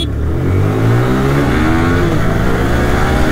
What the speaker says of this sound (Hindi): 180 वर्सेस 150 ड्रैग रेस करते हैं, देखते हैं कौन जीतती है।